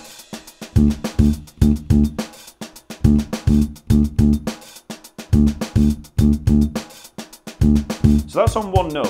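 A funky electric bass line hammers a single repeated note in a tight syncopated rhythm, punchy plucked hits in short clustered bursts with brief gaps, ending in a quick sliding flourish.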